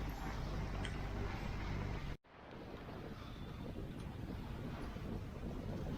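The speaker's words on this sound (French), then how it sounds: "Il y a 16 nœuds de vent quand même." Wind at about 16 knots blows across a sailboat at sea off the Egadi Islands near Sicily, a steady rushing roar with microphone buffeting, briefly dropping out before continuing at a slightly lower level.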